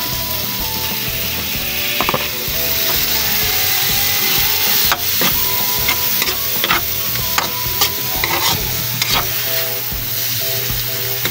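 Pinakbet vegetables with shrimp paste (alamang) being stirred in a hot pan, a steady close sizzle broken by repeated scraping clatters of the spoon against the pan, with no talking.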